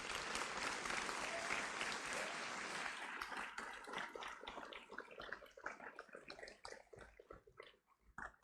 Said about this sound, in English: Please give 12B a round of applause.